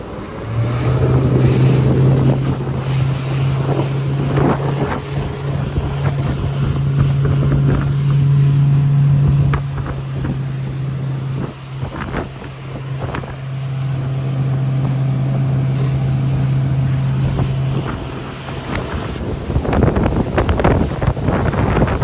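Single-engine motorboat running on plane across a bay, with a steady loud engine drone under heavy wind buffeting and splashing water, the motor note dropping away near the end.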